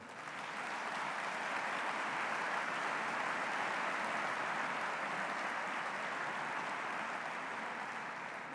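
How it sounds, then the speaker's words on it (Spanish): An audience at an annual corporate sustainability event applauds the companies in a steady, even wash of clapping that sounds faint and distant and never rises or breaks. "Así que un aplauso para todas esas empresas, por favor."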